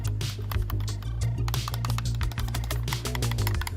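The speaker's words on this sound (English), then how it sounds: "Hear that, it clicks." Rapid, irregular clicking and tapping from the knob and shortcut buttons of a TobenONE 10-in-1 docking station, close and crisp, with a steady low hum underneath and no talking.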